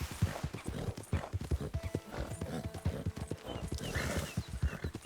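Horse hooves clip-clopping at a steady riding rhythm in Red Dead Redemption 2, close and even, with a brief whinny near the end.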